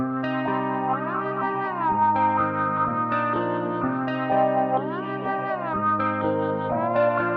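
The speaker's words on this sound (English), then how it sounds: "So I just quickly added some effects to the guitar and the flute." Layered guitar and flute melody drenched in effects, with echoing, chorused, slightly distorted tones sustaining continuously and fairly loud throughout.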